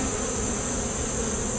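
Honey bees at a hive hum in a dense, steady buzz, with no gaps and no voices.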